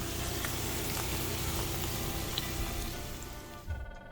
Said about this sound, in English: But I'm frying in batches here